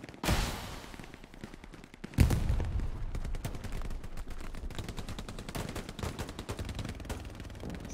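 Sustained machine gun fire in a Hell Let Loose 50v50 battle, with rapid overlapping bursts from several guns that rattle continuously after a loud opening volley and grow heavier past the midpoint.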